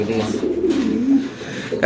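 Newly acquired domestic breeding pigeons at a pigeon seller give a short run of low, throaty coos nearby, heard under people's conversation.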